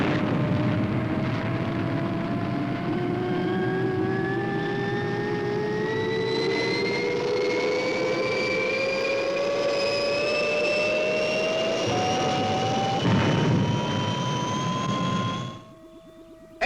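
Rocket ship Fireball XL1 lifts off with a sustained, rising engine roar, its pitch climbing steadily as it grows louder, then cutting away abruptly near the end.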